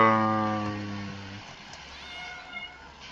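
A cat gives one drawn-out, tonal meow close by, followed by quiet room sound.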